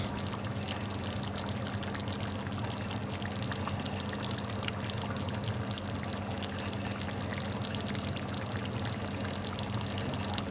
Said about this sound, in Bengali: তারপরে অ্যাড করে দিচ্ছি পরিমাণ মতো জল।